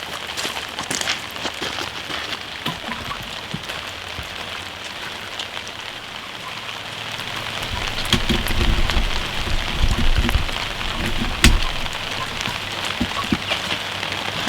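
Steady rain falls around an Alaska cabin build site, pattering on a canopy overhead. The wash stays continuous and fairly loud throughout, with a few sharper drips and taps and a slightly heavier stretch near the middle.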